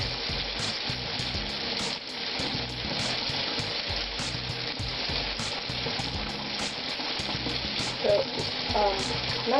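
Melt-and-pour coconut cream and shea butter soap base bubbles and sizzles softly, with continuous crackling fizz and occasional stirring sounds at close range, no speech.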